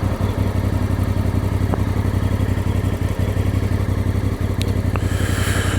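Voge DS 625X motorcycle engine pulling steadily in fourth gear while riding, a loud, even mid-pitched drone with constant rumble and no speech over it.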